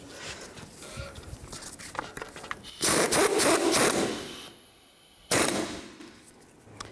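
A nut being snugged down on the front strut assembly of a 2009-2017 Chevy Traverse, heard as close metallic clicks and ratcheting scrapes with a couple of louder bursts of handling noise.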